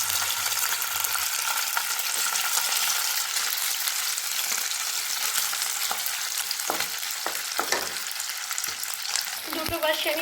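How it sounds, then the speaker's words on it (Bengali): Chital fish muitha dumplings deep frying in hot oil in a wok, a steady close, dense sizzle running throughout with a few brief clinks and bubbling bursts near the end. "তেল গরম হয়ে গেলে আমি এর মধ্যে কেটে রাখা মুইঠাগুলোকে ছেড়ে ভেজে নিচ্ছি"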